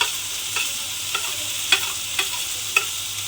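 Jackfruit paste being stirred into fried prawn heads in a pan: a steady soft sizzle with a few sharp spoon scrapes and clinks against the pan spaced through the stretch.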